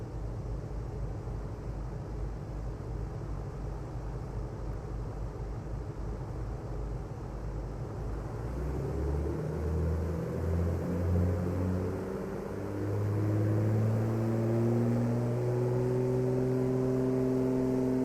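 Aircraft engines spool up to takeoff power in Microsoft Flight Simulator 2024, a steady whir that climbs into rising, layered whining tones and grows steadily louder over about ten seconds, heard alone.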